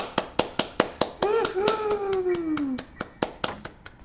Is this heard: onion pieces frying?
no